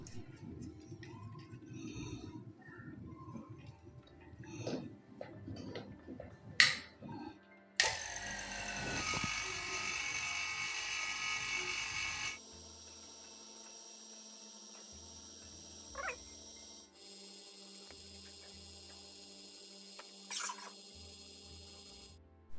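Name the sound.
vacuum pump evacuating mini-split AC system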